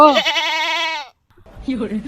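A man imitates a goat with a loud, wavering bleat that lasts about a second, followed by a short pause and a few muffled vocal sounds.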